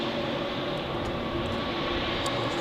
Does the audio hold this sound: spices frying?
no